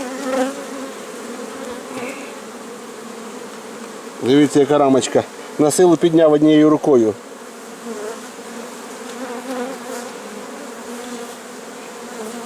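Bees hum in a steady, close buzz throughout around a flowering linden tree, while someone speaks briefly over them in Ukrainian in the middle.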